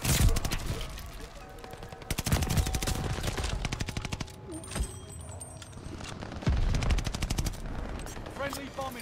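Cooper Carbine fire in a first-person shooter game, dense rapid bursts of automatic gunshots, loud and close, with brief gaps between volleys and a few distant shots mixed in.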